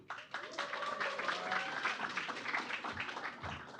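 An audience at a youth project showcase event applauds, a steady wash of clapping with a faint voice or tone drifting through it, lasting a few seconds at moderate distance.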